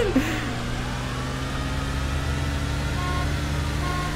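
A Honda Civic engine in a video game drones steadily and close throughout, with a faint horn-like tone and no speech over it.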